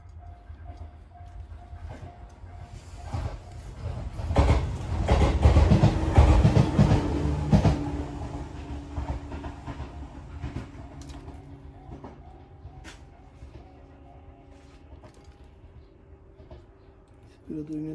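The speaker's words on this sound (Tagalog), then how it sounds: "Pagdating na naman ang train." A train rumbles past outdoors, its rolling noise swelling to a peak then fading into a distant hum. A voice talks over it, and a few faint thumps and clicks come from nearby.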